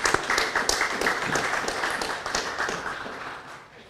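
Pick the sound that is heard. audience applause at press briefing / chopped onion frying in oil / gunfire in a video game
audience applause at press briefing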